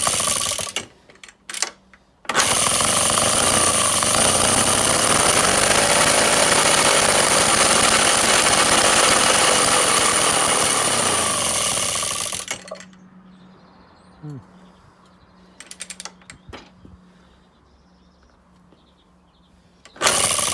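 ATCO lawnmower with a Villiers two-stroke engine running loud and steady for about ten seconds under throttle, then cutting out to near quiet with scattered small knocks and a brief restart at the end.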